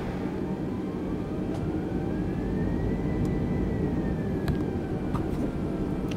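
Steady aircraft engine hum and whine while taxiing to a parking stand at Gatwick in Microsoft Flight Simulator 2020, a soft continuous drone with a slowly rising and falling tone and a few faint clicks, no talk.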